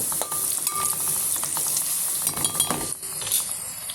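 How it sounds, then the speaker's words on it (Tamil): Onions sizzle steadily in a hot pan, with occasional scraping and clinking of a stirring utensil against the metal. "இப்போ இங்கே வந்து ஆனியன் வந்து ஃப்ரை ஆகிட்டு இருக்குது."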